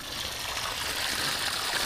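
Steady rushing hiss of water spraying from a garden hose, continuous and fairly loud with no pauses.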